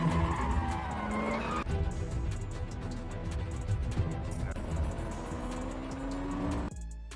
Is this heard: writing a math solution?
no